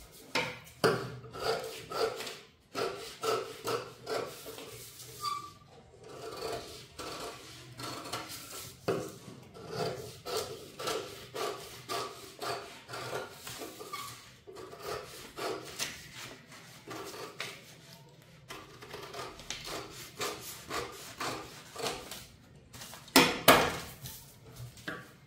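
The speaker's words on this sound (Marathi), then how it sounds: "आता आपण कटोरी कट करूया." Scissors snip through paper while cutting the katori piece of a blouse pattern, giving a long series of sharp, irregular cuts and rustles close by, with no voices.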